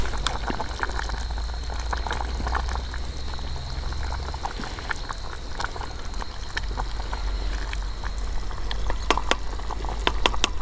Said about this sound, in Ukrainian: Моя кашка кипить.